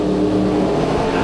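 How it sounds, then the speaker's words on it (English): A 1972 Corvette drag car with a 572 cubic inch nitrous-assisted engine launches at a drag racing event, a loud, dense, steady engine roar filling the whole moment with no talk. "72 Corvette, 572 cubic inch nitrous assisted power."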